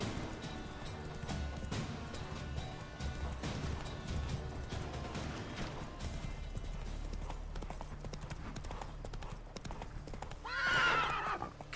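Roach the horse gallops in The Witcher 3, a steady, close clip-clop of hooves running throughout, with a loud whinny rising near the end.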